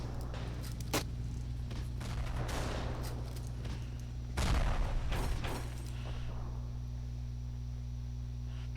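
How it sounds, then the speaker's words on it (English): Gunfire in the video game Ravenfield, a dense run of rapid shots over a steady low engine-like hum, with a louder burst of close firing near the middle of the clip and no talk. "I'm shooting too high."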